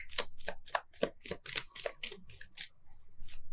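Tarot cards are shuffled by hand during a reading, a quick series of close, crisp riffling bursts with short pauses between them.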